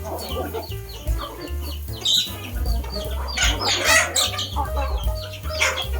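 Chickens cluck and squawk repeatedly nearby, overlapping in busy bursts over a low background hum.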